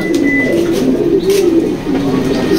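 A male pigeon coos inside a pigeon loft, a low, throaty warble repeating in rolling phrases, close and continuous, with faint other noises behind it.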